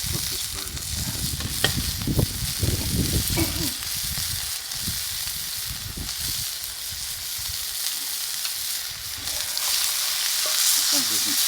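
A burger sizzles on a Coghlans tripod grill set over a Solo Stove, with a steady frying hiss and crackle throughout, busier at first and then settling into a softer continuous sizzle.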